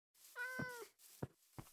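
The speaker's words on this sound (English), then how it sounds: "Hey, a cat." A cat in Minecraft gives one clear, drawn-out meow followed by two short soft thumps, close and quiet against silence.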